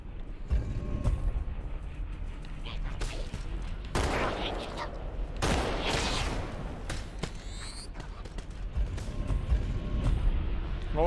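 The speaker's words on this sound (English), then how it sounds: "What's going on with the explosion sound effects in this? It's glitching out a bit." Glitching explosion and gunfire effects from the Halo 2 Anniversary video game, a dense, continuous barrage of bursts and rapid shots with several louder blasts, all fairly loud and steady throughout.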